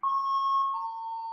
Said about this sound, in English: Excuse the bell.